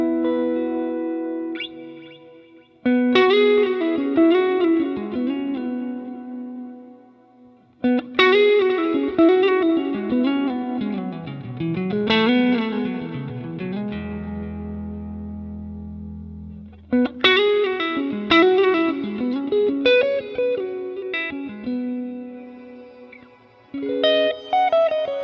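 Electric guitar played through a glitz reverb, chords and single notes ringing out with a shimmering, distorted wash and long decaying tails, with a low sustained bass swell midway and brief pauses between phrases.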